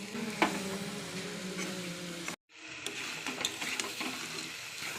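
Mutton with onion and fried spices sizzles steadily in a hot pan, a close, continuous frying hiss with stirring scrapes, briefly cut off by a moment of near silence midway before resuming.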